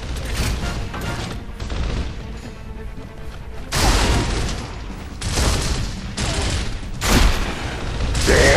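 Hammerburst rifle fire in Gears of War on hardcore mode, loud bursts of rapid shots in repeated volleys with mechanical clatter between them, close and dominant.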